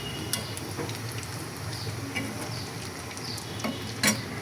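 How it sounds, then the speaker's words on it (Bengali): Egg chops deep frying in oil, with a continuous dense bubbling sizzle and occasional small ticks and clinks close by. "ডিম চপগুলো ভেজে নিচ্ছি, আর একটু কালার হলে তুলে নেব আর কি।"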